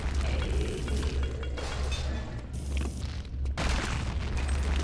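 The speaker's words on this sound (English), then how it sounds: "Did he block my grenade?" A grenade detonates in a first-person video game shooter, a loud booming blast with crackling debris, followed by a second heavy burst amid continuous gunfire and rumble.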